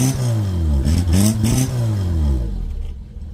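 A Renault 11 GTL converted to turbo revs up on acceleration with a loud, rising engine note that climbs and falls back, then fades away.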